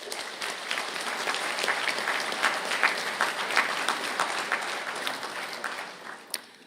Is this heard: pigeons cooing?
no